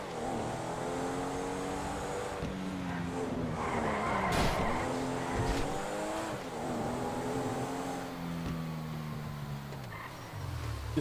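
A car in a video game drives at speed with a steady engine drone, wavering pitch and tire squeals from skidding, including a sharp impact-like burst midway.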